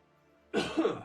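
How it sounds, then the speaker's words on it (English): A single short, rough cough, close and fairly quiet, following a moment of near silence. "God, sorry, I need to cough."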